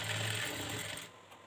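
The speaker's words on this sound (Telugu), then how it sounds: "ఇంకా స్టిచ్చింగ్ చేస్తున్నాను" A sewing machine stitching a blouse hums and rattles steadily at close range, then stops abruptly after about a second, leaving quiet. No one speaks.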